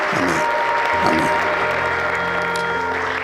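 A church congregation at an Ethiopian evangelical service claps steadily and ululates together, a sustained, fairly loud wash of applause with high trilling voices layered over it.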